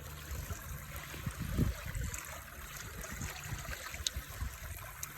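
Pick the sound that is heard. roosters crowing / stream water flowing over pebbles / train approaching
stream water flowing over pebbles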